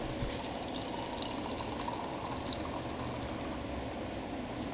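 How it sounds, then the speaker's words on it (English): Brewed coffee from a specialty coffee brewer being poured into a cup in a steady, continuous stream, close and fairly quiet, with no talking. "I'm gonna pour myself a cup of this and try it out."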